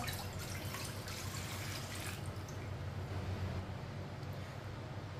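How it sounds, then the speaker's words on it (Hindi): Water pours steadily into a wok, a continuous splashing gush that tapers off, heard close with no voices. "अब कढ़ाई में पानी डाल लेंगे।"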